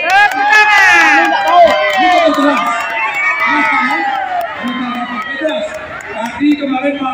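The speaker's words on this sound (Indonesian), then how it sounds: "Tepuk tangan dulu." A crowd at a teachers' mediation meeting with a regional council cheers and shouts loudly, excited voices rising together and lingering as noisy chatter.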